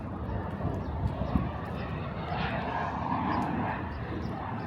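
Airplanes pass overhead on landing approach above a Queens, New York neighborhood street, a steady distant engine drone under breezy street ambience with occasional faint knocks and no clear speech.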